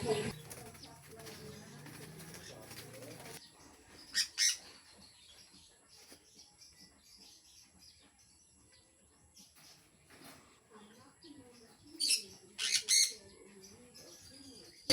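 Sun conure parrots in a breeder's cage let out a few sharp, loud squawks in short clusters while someone handles them. Rustling and quiet activity fill the gaps between calls.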